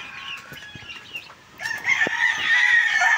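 Hens clucking close by with a rooster crowing, starting as scattered clucks and calls and then swelling into a loud, sustained crow toward the end.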